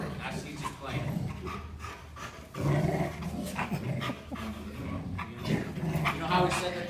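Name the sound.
dog growling while playing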